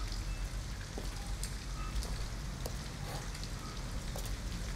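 Steady rain in the video game Detroit Become Human, a dense, even hiss of drops on surfaces with occasional brighter spatters, continuous and moderately loud throughout with no talking.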